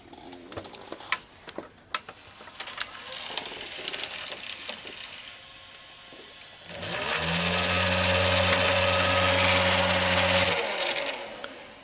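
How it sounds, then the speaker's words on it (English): A faulty Quasar VH5471-K VCR's capstan motor spins up to hyper speed while playing tape, a loud steady mechanical whine with strong tonal hum lasting several seconds after a stretch of tapping and clicking handling noises. "turning hyper speed when playing tape"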